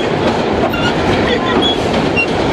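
Vintage R1 subway train running on a New York holiday nostalgia ride between Queens Plaza and 2nd Avenue, a loud steady onboard rumble with rhythmic clickety-clack of wheels and faint squeals.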